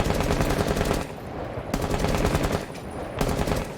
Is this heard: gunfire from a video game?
yes